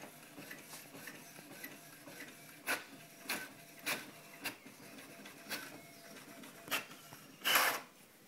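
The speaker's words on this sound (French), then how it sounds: "elle va imprimer le test et on va voir ensemble si chaque couleur sont bien imprégnées dans l'imprimante" A Brother DCP-J152W inkjet printer fitted with a continuous ink supply system prints a test page, its print head sliding back and forth with regular clicks and knocks, ending in one louder mechanical clunk.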